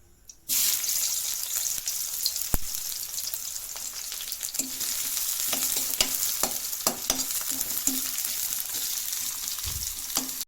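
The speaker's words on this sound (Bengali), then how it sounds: "দেখতে পাচ্ছ ফ্রাই হয়ে গিয়েছে পেঁয়াজ" Onions sizzle steadily in hot oil in a wok (kadai) used just before for frying rohu fish, a continuous bright hiss with intermittent scraping stir clicks, close and alone.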